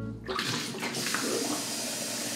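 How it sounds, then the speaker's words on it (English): Cold tap water gushes steadily into a cooking pot for fish and chips, a loud continuous rushing stream that starts abruptly after a short pause and runs alone. "Pot of water, cold water."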